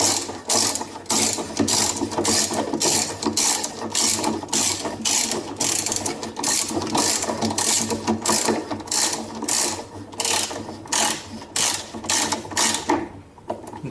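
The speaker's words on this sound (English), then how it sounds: "put our long extension down there and tighten down that bolt" A ratchet on a long extension tightens a bolt at the top of a Sears Kenmore Elite Oasis washer's drive shaft, with rapid rhythmic clicking in steady strokes, close and loud, running almost continuously for the whole stretch.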